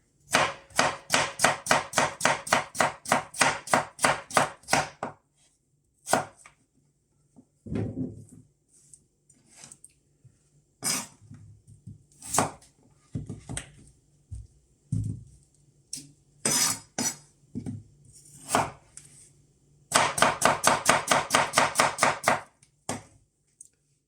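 A knife chops vegetables on a board for a homemade tortilla, in fast, loud rhythmic bursts at the start and end, with sparser single cuts and clinks of glass and dishes in between.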